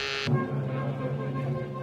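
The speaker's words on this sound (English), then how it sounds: "I was thinking about it when the call buzzers zizzed in my ear." A steady electric buzzing tone of a theatre call buzzer, fairly loud and continuous, with a higher-pitched burst at the very start.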